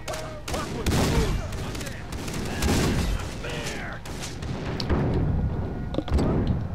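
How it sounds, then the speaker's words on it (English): Shotguns fire in a dark, power-outage game level, heavy booming blasts recurring every second or so amid thuds and other gunfire, close and loud. "What's with all the fucking shotguns?"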